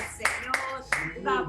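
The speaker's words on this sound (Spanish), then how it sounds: "Usted dele un aplauso al Señor, un aplauso al Rey de Reyes" Hands clap at a church retreat, a few sharp claps in quick succession close by, with congregational voices in the background.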